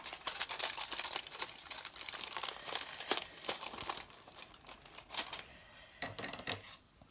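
Tinfoil being creased by hand for a plaster cake sculpture: continuous close, crisp crinkling and crackling with sharp rustles and brief pauses, fairly loud and alone.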